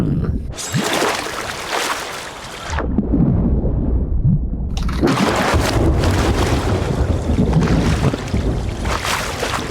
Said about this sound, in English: Storms are getting nasty.